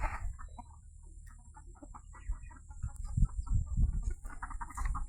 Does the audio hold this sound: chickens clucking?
yes